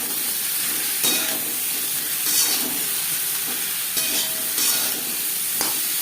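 Raw mango pieces frying with salt and turmeric in a pan for chutney, giving a steady close sizzle and hiss with occasional stirring scrapes at regular intervals.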